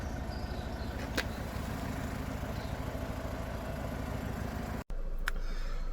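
A 2013 Ford S-Max engine idles steadily with a low, even mechanical drone under a DPF cleaning treatment, broken by a brief dropout near the end before the hum resumes.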